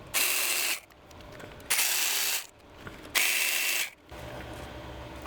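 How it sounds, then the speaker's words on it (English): A ratchet wrench loosening bolts on the fuel rails of a Land Rover engine, three close, loud bursts of rapid clicking, each lasting under a second, separated by short pauses. "So I'm just gonna pull some bolts and see what happens."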